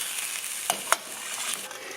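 Meat browns in a frying pan with a soft constant sizzle, broken by two brief stirring scrapes close by, with no voices.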